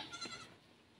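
A single short goat bleat rings out on a farm, fairly near but faint, fading quickly into quiet.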